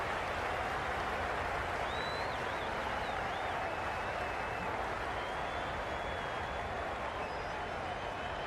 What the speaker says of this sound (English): The crowd are really getting quite raucous.